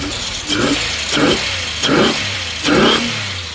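A 3.4-litre Impala V6 engine fitted in a 2000 Grand Am runs rough, chugging with four rhythmic surging pulses, each swelling and easing at a loose steady pace, loud and close with no talking.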